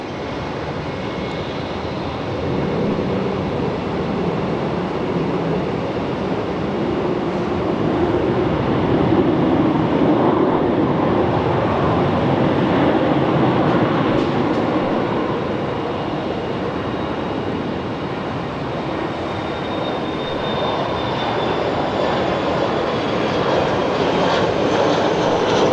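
A JSX jet in Top Gun livery taxis at Phoenix Sky Harbor International Airport, its engine roar loud and steady throughout, swelling slightly in the middle.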